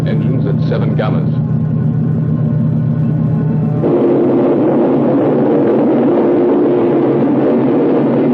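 Spaceship engines in a science fiction film give a steady, loud, low rumble that keeps going without a break and grows denser and rougher partway through, with a voice heard faintly beneath it at first.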